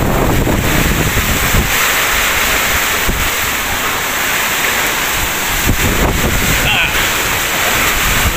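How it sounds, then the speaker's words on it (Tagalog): Strong typhoon winds from Typhoon Kristine roar continuously with heavy rain in Bay, Laguna, Philippines, buffeting the microphone in loud, unbroken gusts close by. "Lakas ng hangin."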